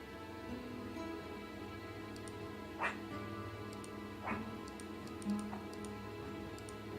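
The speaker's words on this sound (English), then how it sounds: "let's put some barking in." A few short dog barks, spaced seconds apart, ring out over a steady background of game music and hum, from the video game The Great Circle.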